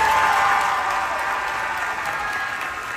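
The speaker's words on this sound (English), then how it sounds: "So they took a timeout for him to get a standing ovation." A gym crowd gives a standing ovation to a retiring referee at his last varsity basketball game after 51 years, with loud sustained applause and cheering that slowly tapers off.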